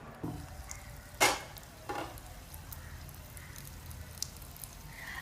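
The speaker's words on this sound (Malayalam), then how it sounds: "എന്നിട്ട് ഇതിലേക്ക് ഓയിൽ ഒഴിച്ച് കൊടുക്കാം. എന്നിട്ട് നമുക്ക് ഓരോന്നോരോന്നായിട്ട് പൊരിച്ചെടുക്കാം." Yeast-free donuts frying in hot oil: a faint, soft sizzle runs throughout, broken by a few brief clinks and splashes.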